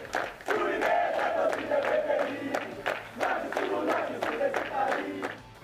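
A crowd of Vasco football fans chants in rhythmic unison with cheering, loud and close, voices rising and falling in repeated bursts across the whole stretch.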